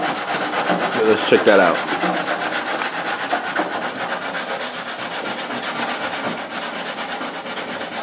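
A Rocket Bunny fiberglass bumper is freehand sanded to smooth out bumps and cracks: a steady, close, scratchy rubbing that runs throughout with no pauses, while a brief voice comes through early on.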